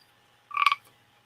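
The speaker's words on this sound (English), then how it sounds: "Kind of sounds like a frog." A toy whistle gives one short, bright croaking call like a frog, close and fairly loud, with no talking over it.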